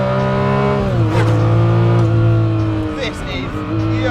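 Ferrari F50 with its 8,500 rpm V12 mounted in a carbon tub, revving hard with rising and falling engine pitch close by, a person talking over it.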